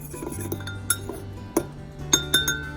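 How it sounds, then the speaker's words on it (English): Spoon clinking and scraping inside a mug while stirring chocolate mug cake batter with egg, a few sharp light clinks over a soft, steady kitchen background. "Get that all stirred up really well."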